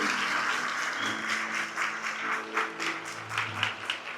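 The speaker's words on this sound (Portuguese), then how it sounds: "Dá uma salva de palmas. Bate palma para Jesus, porque Ele merece." Church congregation clapping for Jesus, sustained applause from many hands with rhythmic accents, with musical tones sustained underneath.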